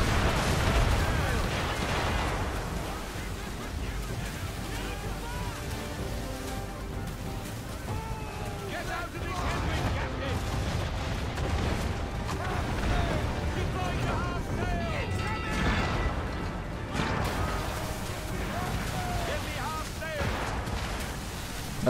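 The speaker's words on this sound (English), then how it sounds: "Let's go away from their line of mortars." Mortar fire during a naval chase in Assassin's Creed 3, heavy booming blasts and rumbling impacts across a long stretch of battle noise, with a person talking over it throughout.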